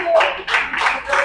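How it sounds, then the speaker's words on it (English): A church audience claps for a guest speaker walking up to the podium, a bright burst of applause that surges in waves, close and fairly loud. "Please keep clapping till you get here."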